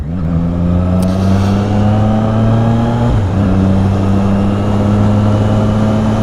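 A motorcycle ridden steadily to warm its tyres gives a loud, continuous engine drone close by, holding a steady pitch with a brief dip around the middle before settling again.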